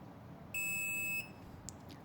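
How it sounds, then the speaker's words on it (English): A battery-powered buzzer on a wire harness continuity tester sounds one steady, piercing electronic tone lasting about two-thirds of a second, then stops, leaving quiet room noise and a faint click. "When positive and connected negative, the buzzer will make sounds."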